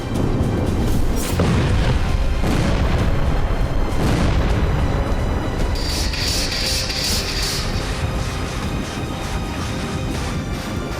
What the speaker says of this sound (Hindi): हर तरफ जोरदार धमाके, आग का भयावह गुबार आसमान छूता नजर आया।